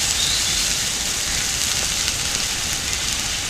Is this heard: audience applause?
no